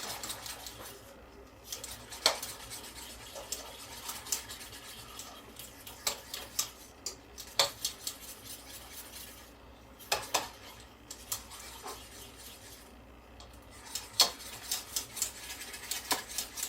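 Metal spoon stirring homemade candy mixture in a pan, producing repeated light scraping clinks and taps against the pot in an irregular rhythm, fairly quiet and close with no talking.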